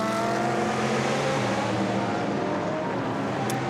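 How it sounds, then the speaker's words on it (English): A Ferrari GT race car in a sports-car race, running deep into a corner, its engine a loud continuous roar that holds steady throughout, with no talk over it. "Running very, very deep into turn 14, struggling to get out of the corner was our 7th place runner, Christopher Ulrich"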